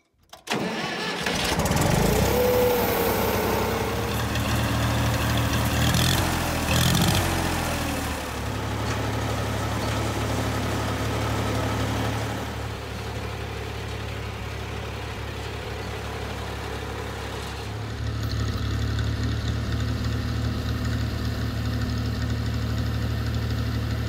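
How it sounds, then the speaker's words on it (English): An old yellow tractor engine cranks and catches, then settles into a steady, loud idle with a knocking rumble that runs close and continuous for the rest of the clip. "Well, now to see if the yellow tractor starts."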